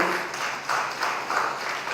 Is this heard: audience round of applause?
yes